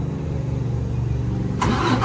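A truck's engine cranks and catches during a roadside DOT inspection, a low steady churning rumble that jumps into a sudden louder roar near the end as it fires up, close by.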